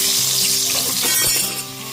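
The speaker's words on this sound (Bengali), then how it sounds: "ওই একই তেলের মধ্যে এবার ঝিঙেটাকে ভেজে নেব" Long-cut ridge gourd pieces with some peel left on fry in hot oil, producing a close, bright sizzle that hisses steadily and eases slightly toward the end, with no talking.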